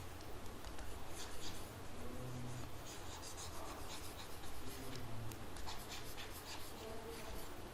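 Writing being erased from a classroom board, a steady, close scrubbing and rubbing with rhythmic back-and-forth strokes running throughout, loud and uninterrupted.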